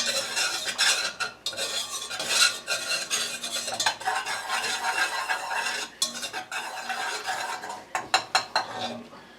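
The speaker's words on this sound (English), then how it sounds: "we're going to whisk this together to make it less chance of" A whisk stirring vanilla pudding mixture in a bowl, fast scraping and clinking strokes against the sides, close and steady with brief pauses.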